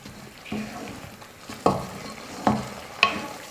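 A spoon stirs carrot cooking down in milk in a pan, with a steady soft sizzle and a few sharp scrapes against the metal at intervals; no voices.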